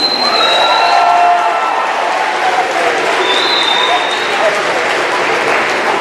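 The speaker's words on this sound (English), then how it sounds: "please give them all a round of applause." An audience at a college athletics awards ceremony gives a sustained round of applause, dense even clapping for six seconds with a few cheers and whoops rising above it.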